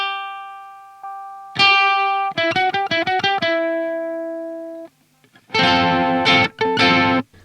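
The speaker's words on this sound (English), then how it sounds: "More distortion." Fender Fullerton Tele ukulele played through a distortion effect: a few single notes, then a quick run of buzzy plucked notes, a held tone, and loud, fuzzy strummed chords.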